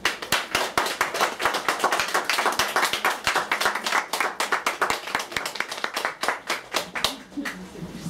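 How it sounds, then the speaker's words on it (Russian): Audience at a Dostoevsky-themed evening event clapping, a dense, steady round of applause from many hands that carries on throughout and thins slightly near the end. "Ну и хлопайте, конечно."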